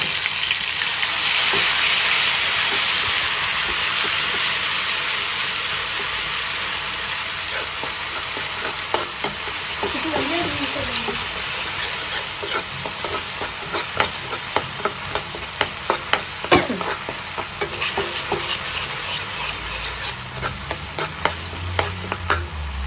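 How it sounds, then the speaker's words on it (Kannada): Ground green chilli masala frying in a pan gives a strong, close sizzle that slowly fades, with sharp spluttering pops and a few utensil taps growing more frequent toward the end, and no one speaking. "ಹಸಿಮೆಣಸಿನ್ಕಾಯಿ ಮಸಾಲೆ ತುಂಬ ಸಿಡಿಯುತ್ತೆ, ನೋಡ್ಕೊಂಡು ಮಾಡಿ"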